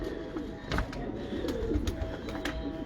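Pigeons from a breeder's loft coo in soft, low, repeated calls over a murmuring background, with a few brief flutters and knocks mixed in.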